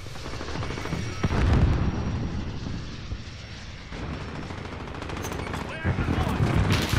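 Light machine gun firing in a video game, dense sustained bursts of rapid close shots over a continuous roar of battle noise, with no clear pause between volleys.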